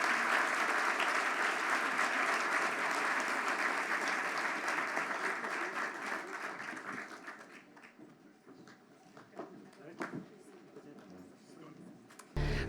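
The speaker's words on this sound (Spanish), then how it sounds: "Un fuerte aplauso para él y para toda su comitiva" An audience at a Colombian constitutional jurisdiction conference applauds steadily for several seconds, then the clapping thins out into scattered claps and a few faint knocks.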